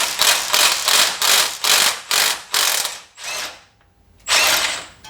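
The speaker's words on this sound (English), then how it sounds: "Like I said, it's just a T55 reverse Torx bit." Ratchet wrench clicking as it turns a T55 reverse Torx bit on the front strut and caliper of a Porsche 987 Cayman, loud and close: about seven quick bursts of rapid pawl clicks, a short pause, then one more burst.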